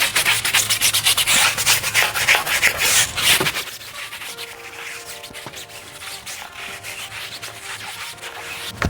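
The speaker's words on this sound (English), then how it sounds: "So we're gonna give the tire a quick scrubbing." A brush scrubbing a car tire, loud close rough rubbing strokes in a fast back-and-forth rhythm, then quieter, lighter scrubbing for the remainder.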